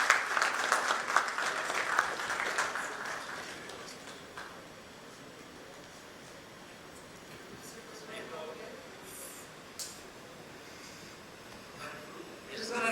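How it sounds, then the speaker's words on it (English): Applause for a session moderator at a leadership summit panel, a burst of clapping at the start that fades within a few seconds, leaving quiet room murmur with faint scattered sounds afterward. "can we also have another huge round of applause for our fantastic session moderator, Mr. Viswanathan Rajamanickam."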